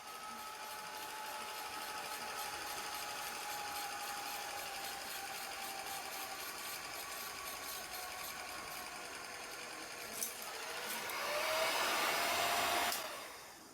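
A Revere film projector motor whirs steadily while rewinding film, a continuous mechanical drone that swells and brightens near the end before cutting off sharply.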